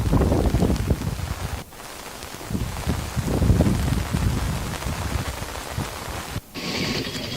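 Steady heavy rain falls over a district and its nearby towns during a monsoon spell, a dense continuous wash of drops with gusty wind buffeting the microphone and no voices.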